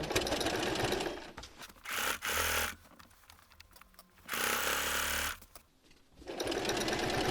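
A sewing machine stitches through several layers of thick, heavy-duty fabric while a cushion cover is being made, running in loud mechanical bursts that stop and restart with short pauses between runs.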